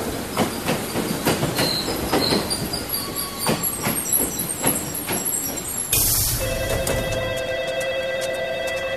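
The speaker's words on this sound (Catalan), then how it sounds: "S'acosta un tren a l'andana 1." A train rolls into a station platform with rhythmic wheel clatter over the rails, then brakes squeal in sustained high tones as it slows, loud and close.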